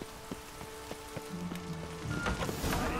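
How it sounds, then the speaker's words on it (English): Rain falls in The Witcher 3 game world as a steady hiss of drops with scattered sharper patters, growing slightly louder and denser toward the end, with no voices. "I like rain."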